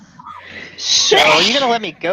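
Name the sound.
sneeze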